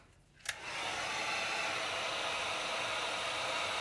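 A hair dryer blows steadily to dry freshly airbrushed paint for a flame and fire design, switching on with a click and then holding a loud, even rush of air.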